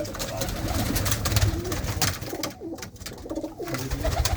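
Pigeons coo in a loft housing a fine-breed flock, including large hens and some males, their low repeated calls blending with shuffling and wing noise, fairly close and steady throughout.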